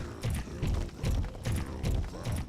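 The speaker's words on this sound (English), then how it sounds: "I just made a footstep sound" Player footsteps in the stealth video game Thief: Deadly Shadows, a steady run of about six heavy, evenly spaced thuds close up, each with a short bright scuff, walking at a regular pace with no talk.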